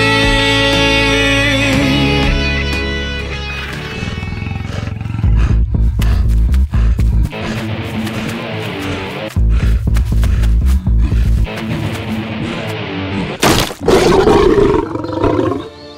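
A loud, dramatic roar rises over a swelling orchestral score, with bursts of growling noise and sharp accents near the end.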